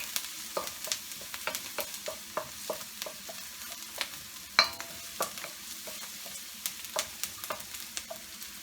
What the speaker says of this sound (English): as soon as the onions get sauteed, so also the jalapeno pepper, we're going to add the fish